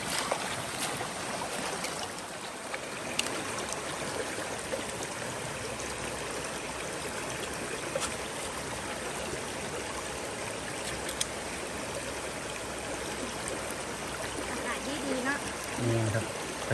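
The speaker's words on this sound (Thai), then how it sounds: "น้ำตกสวยๆเลยธรรมชาติเลย" A natural forest waterfall and stream rush over rocks in a steady, broadband roar that stays close and constant, with a few faint voices underneath.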